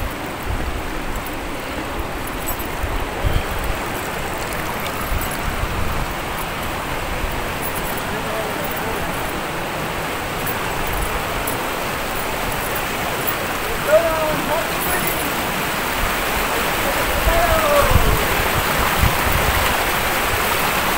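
Water rushes steadily along a hot spring stream at Asin Hotspring in Tuba, Benguet, a loud continuous broadband flow that runs throughout, with a person talking over it.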